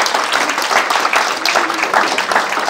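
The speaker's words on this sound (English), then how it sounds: "Let's give God a big clap of offering." A church congregation claps together in a brisk, sustained burst of offering applause, loud and close, with individual hand claps audible within the steady crowd texture.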